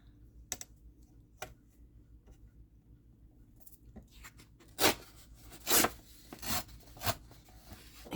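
Sheet of paper torn by hand in a quiet room, a few short ripping bursts in the second half, close and moderately loud.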